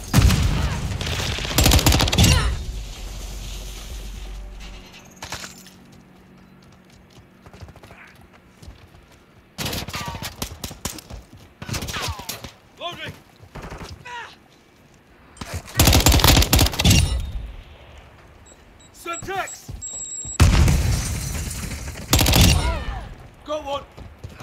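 Bursts of rapid automatic gunfire from a Call of Duty Modern Warfare 2 multiplayer deathmatch, loud and close, arriving in several dense volleys separated by quieter stretches of game ambience.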